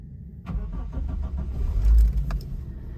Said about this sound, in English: let's start the Daihatsu Terios